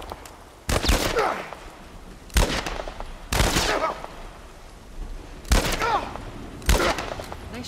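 Gunfire in the video game The Last of Us Part I, five loud, sharp shots spaced about a second apart, each with a short echoing tail, over a low ambient background.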